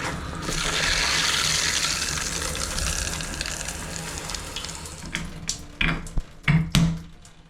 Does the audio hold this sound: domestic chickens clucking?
no